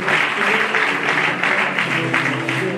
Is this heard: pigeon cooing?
no